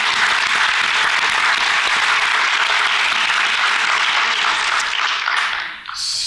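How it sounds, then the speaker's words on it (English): Sustained audience applause for a conference keynote panel, a steady dense wash of many hands clapping at full strength for about six seconds before it thins out near the end. "let's give a round of applause to our amazing panel"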